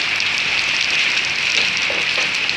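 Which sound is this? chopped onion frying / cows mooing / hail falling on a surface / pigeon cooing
hail falling on a surface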